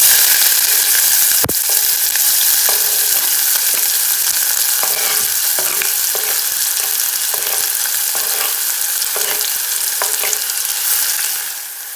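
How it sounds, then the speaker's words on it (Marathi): Cumin and onion fry in a pan for a bottle gourd (lauki) sabji, giving a loud, continuous, close sizzle. A spoon scrapes and stirs in a series of soft knocks, and there is no talk. "आता याच्यामध्ये ॲड करायचे आहे जिरे. आता याच्यामध्ये ॲड करूयात कांदा."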